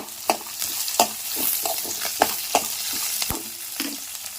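Chopped green chillies and cashews are stir-fried in hot oil, a close sizzle broken by frequent sharp spatula clacks and scrapes against the pan in an uneven stirring rhythm.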